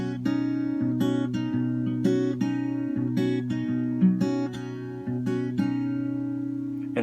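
An acoustic guitar fingerpicks the arpeggiated pattern of a song in a steady, even rhythm, with close and clear plucked notes ringing over sustained bass strings and no talking.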